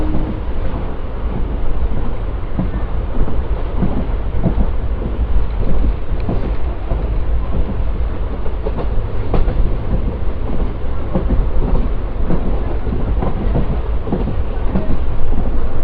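A passenger train on the Guntur to Naupada route rumbles loudly and continuously, wheels clattering over the rails in a dense, steady roar with no pauses.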